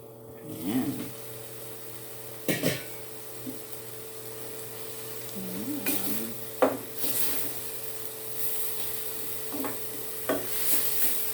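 Ground pork cooking in a pan for picadillo, with scattered stirring scrapes and knocks of a wooden utensil over a low sizzle, plus brief voice sounds.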